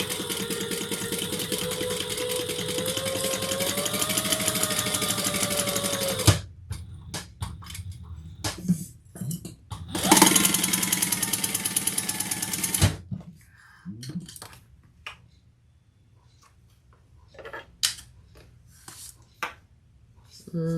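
Sewing machine stitching a garment from the Novella pattern by Simply Classic, a loud steady whirring run, a pause with handling clicks, another short burst of stitching, then quieter fabric rustles and taps.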